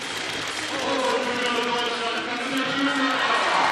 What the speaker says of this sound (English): you hear that home crowd